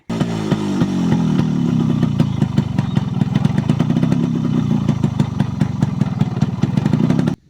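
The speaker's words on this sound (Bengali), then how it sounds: "আপনাদেরকে এই বাইকের সাউন্ডটা দেখাচ্ছি।" A Yamaha RX 100 two-stroke motorcycle runs at a steady idle nearby, its loud rapid popping exhaust pulses clattering evenly throughout before cutting off.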